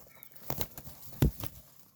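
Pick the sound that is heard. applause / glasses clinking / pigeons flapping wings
pigeons flapping wings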